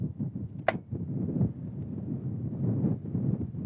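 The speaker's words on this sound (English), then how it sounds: "that wind's got a little stronger" Wind buffets the microphone at an outdoor trap shooting range, a steady low rumble that swells and eases throughout, with one brief sharp high-pitched burst near the start.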